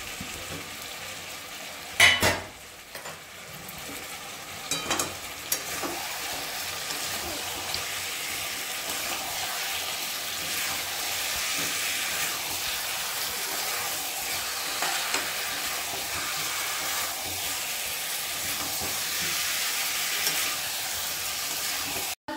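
Chicken and fried potatoes sautéing in a pan, a steady broadband sizzle running throughout with a few louder clatters of stirring near the start.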